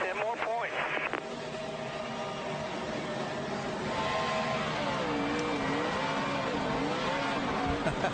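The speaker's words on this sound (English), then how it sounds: "That's a high-speed burnout." A NASCAR race car doing a high-speed burnout, its engine roaring in a sustained, shifting drone at close range while commentators talk over it.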